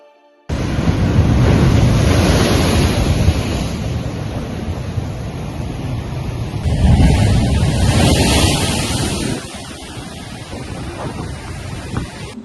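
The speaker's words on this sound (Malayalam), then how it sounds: "ശക്തമായ കടലേറ്റത്തിൽ കടൽഭിത്തിക്ക് നാശം നേരിട്ടിട്ടുണ്ട്" A strong sea surge pounds the shore and sea wall at Vadakara on the Kerala coast: a loud, continuous roar of crashing surf that swells twice before easing off, with wind buffeting the microphone.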